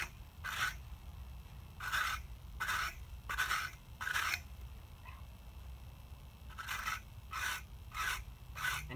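A fire brick edge is scraped square with diagonal cutting strokes, giving a series of short, rasping scrapes in two groups of four or five, close and fairly quiet, with no talk.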